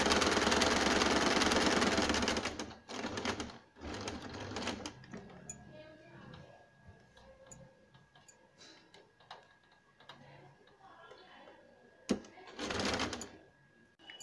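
Sewing machine running in bursts while stitching a gown cut from an old saree, loud at first and then intermittent, alternating with someone talking.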